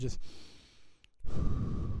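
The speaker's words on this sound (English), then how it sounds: "So I'll take a deep breath." A slow, deep meditative breath taken by a man, a long audible inhale and a short pause followed by a heavier, close exhale, with no talking.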